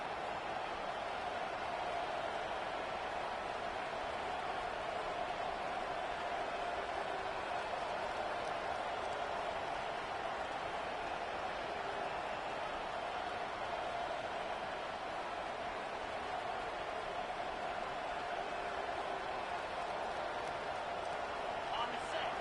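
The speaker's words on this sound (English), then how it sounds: "this crowd coming to life here, trying to help the defense get a stop with the offense pinned back" A large stadium crowd in a college football video game, Colorado against Oregon, roars in a steady, sustained wash of cheering that holds at an even level throughout, with no distinct voices standing out.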